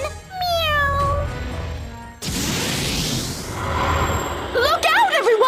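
A cat meows in the video game Bravely Second: End Layer, a series of high, wavering mews at the start and again at the end, separated by a loud crashing burst and rushing noise with game music.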